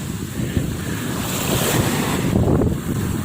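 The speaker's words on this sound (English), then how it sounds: "Hope the wind's not too much here." Wind buffets the microphone on a pebble sea shore while small waves wash and break nearby, giving a continuous rushing, gusty noise with no talk.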